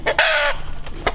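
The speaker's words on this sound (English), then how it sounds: "Rooster's making his noise" A rooster gives a short, loud crow up close, with a brief clucking call before and after it.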